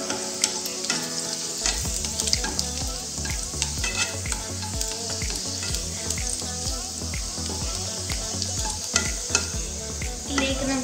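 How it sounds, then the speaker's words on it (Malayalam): Garlic sizzles and fries in a hot pan while a utensil stirs it, a steady bright crackle with repeated scraping strokes and no talk. "നമുക്കിതിലേക്ക് ഇനി വെളുത്തുള്ളി ഇട്ടെടുക്കാം. ഒന്ന് വെളുത്തുള്ളി ചെറിയ ബ്രൗൺ ആയിട്ട് വന്നവരെ നോക്കുന്നു."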